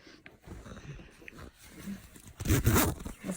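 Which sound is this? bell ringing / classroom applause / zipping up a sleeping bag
zipping up a sleeping bag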